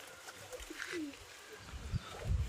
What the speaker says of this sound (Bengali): তো বন্ধুরা দেখতে পাচ্ছ এই বাড়ির পায়রা,